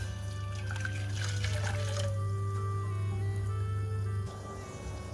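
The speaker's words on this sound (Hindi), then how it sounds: "जेली के लिए 400 ml पानी डाल देंगे।" Water poured into a pot to make jelly for a custard dessert, a steady close stream that runs for about four seconds and then eases off, with no talk.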